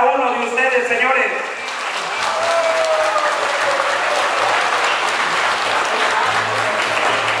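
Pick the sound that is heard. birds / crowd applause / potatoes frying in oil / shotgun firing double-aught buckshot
crowd applause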